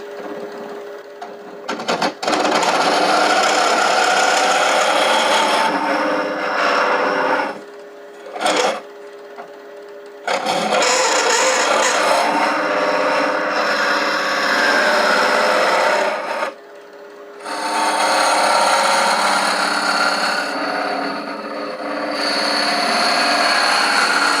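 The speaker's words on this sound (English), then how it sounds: "I'm going to use this round conventional scraper to just kind of clean up a little bit more and smooth out any tool marks inside" A round conventional scraper works inside a hollowed wooden rook chess piece box spinning on a lathe, giving a steady close rasping scrape in long sustained passes broken by a few brief pauses.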